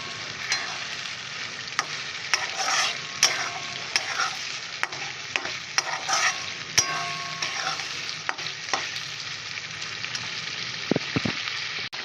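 A paste of poppy seeds and melon seeds fries in a pan for a prawn curry, a close, steady sizzle broken by frequent sharp scrapes and clinks of a spoon stirring against the metal, with no talk.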